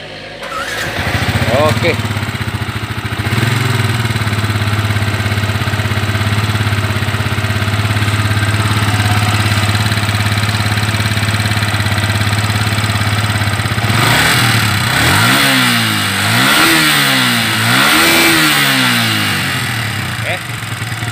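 A Yamaha Vixion motorcycle with a newly fitted bored-out cylinder block cranks and starts, idles with a steady loud rumble, then is revved gently in several short rising blips; a person speaks briefly over the engine.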